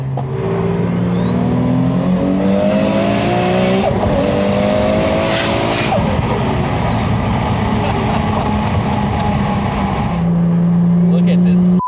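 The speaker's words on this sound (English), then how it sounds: "my boy's got the burble tune" A tuned car with a burble exhaust tune roars loudly on a Tokyo highway at night, its engine note rising and falling with popping exhaust and a brief tire squeal, while excited voices talk over it.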